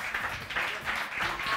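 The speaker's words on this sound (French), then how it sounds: "On les applaudit très fort parce que c'est sûr que yo mérité." Audience applauding a children's dance group at a summer talent final, a steady wash of clapping from a crowd with a few louder swells, sustained throughout.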